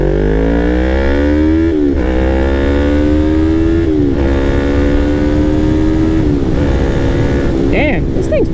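A Yamaha MT-03 motorcycle fitted with a Ransoto exhaust roars loud and close. The engine pitch climbs repeatedly and drops at each shift as the bike accelerates through the gears.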